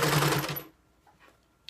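A sewing machine stitches a seam in a quick, buzzing run of needle strokes that stops after about half a second, followed by near silence and a small click.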